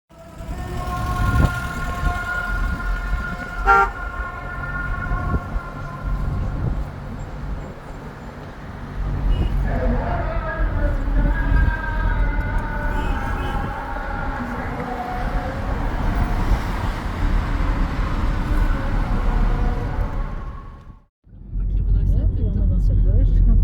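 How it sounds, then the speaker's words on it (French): Car horns honking amid busy Egyptian street traffic, with sustained blaring tones over a constant roar of passing vehicles and engines, some nearby voices, and a brief drop in sound near the end. "La circulation au klaxon."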